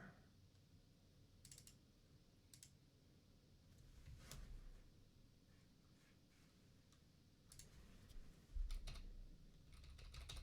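Soft keyboard typing with scattered clicks and key taps, faint and close against a low room hum, with a few louder taps near the end and no talking.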